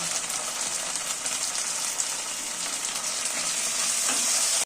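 Onion paste with cumin, ginger and green chilli paste sizzles in a pan for a tilapia curry, a steady close frying hiss that grows a little louder toward the end.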